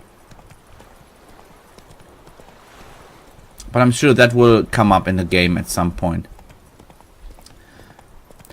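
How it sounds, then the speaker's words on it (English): A horse's hooves clip-clop steadily along a trail in The Witcher 3: Wild Hunt, a soft, even walking rhythm heard first alone and then under a man's clear speech. "by just holding down the shift key, the horse follows the trail on its own"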